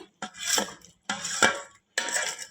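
Ghee-fried dry fruits are added to boiling payasam in three separate bursts, each a close clatter of spoon against a metal pot with short pauses between.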